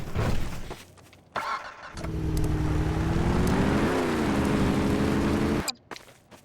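A car engine in the video game Garry's Mod revs up and holds a steady, loud buzzing drone with a slight pitch rise midway, then cuts off abruptly, with brief clicks before and after.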